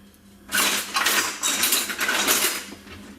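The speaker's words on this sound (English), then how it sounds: "Now we just want to mix it together until it's well combined" Sweetened condensed milk and sugar stirred together in a bowl, a loud, steady run of scraping and clinking from the utensil that starts after a short pause and carries on for about three seconds.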